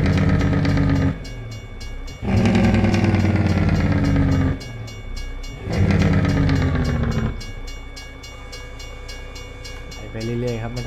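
A train passes a railroad crossing in the USA, heard from a truck pulling a trailer, with long, loud horn blasts sounding in repeated bursts over continuous rumbling rail noise.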